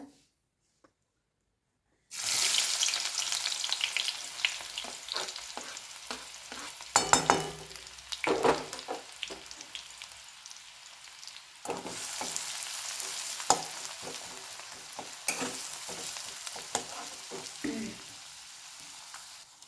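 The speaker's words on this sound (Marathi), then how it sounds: "आता आपण ह्याच्यामध्ये कांदा टाकून घेऊया" Onion drops into hot ghee for pav bhaji and bursts into a loud, close sizzle after a brief silence, with spatula scrapes and stirring clatter throughout and a second surge of frying later.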